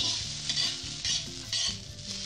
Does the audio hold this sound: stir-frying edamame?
yes